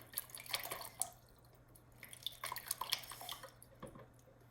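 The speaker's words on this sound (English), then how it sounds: "Maybe I'll give them a nice rinse." Water rinsing Hoya Polyneura plant cuttings during repotting, light irregular splashes and drips trickling in short bursts, close and soft, with no talk.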